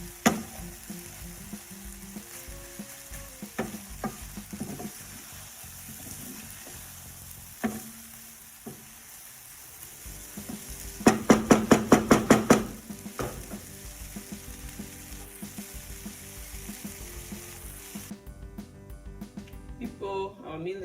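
Vegetable rice stir fried in a pan sizzles steadily, with scattered clinks and scrapes and a quick burst of rhythmic stirring strokes near the middle, then quieter sizzling.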